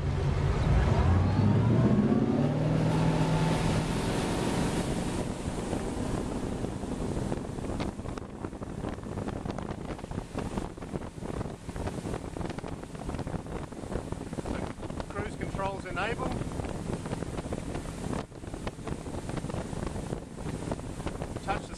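A boat with a Mercury MerCruiser DTS engine accelerates across open water, engine roar climbing loud at first, then a steady rush of hull, spray and wind buffeting the microphone.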